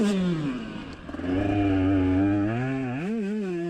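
A 125cc two-stroke motocross bike ridden hard on a hot lap, its high-pitched engine wailing loud and close, revving up and holding steady before rising and dipping through gear and throttle changes, with no talk.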